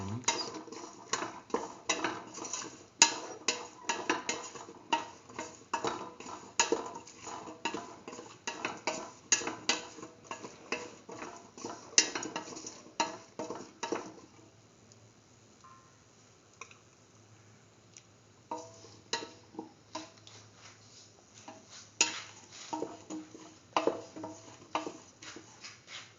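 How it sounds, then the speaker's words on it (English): A spoon stirs and scrapes a split mung bean and eggplant mixture with spices in a cooking pot, making repeated close clinks and scrapes that pause midway, with faint room noise in the quiet gap. "Thoroughly mix."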